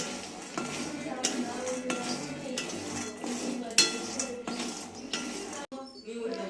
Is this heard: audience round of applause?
no